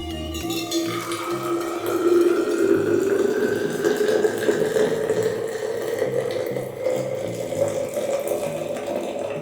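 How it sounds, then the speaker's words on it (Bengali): Hot milk poured into a flask: a steady, close liquid pour with a rising pitch as the flask fills, continuous for about nine seconds with no talking. "এবার আমি দুধটাকে একটি ফ্লাস্কের মধ্যে ঢেলে নেব।"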